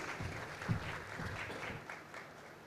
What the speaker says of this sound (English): A huge round of applause, audience, please.